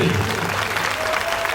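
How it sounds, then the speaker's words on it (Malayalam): Applause at a school ceremony honouring a doctor, a short burst of steady clapping from the assembled crowd, moderately loud and continuous. "നിറഞ്ഞൊരു കയ്യടി."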